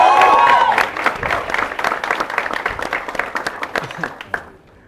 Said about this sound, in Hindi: इनके लिए तालियां।